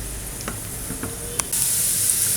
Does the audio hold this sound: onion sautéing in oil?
yes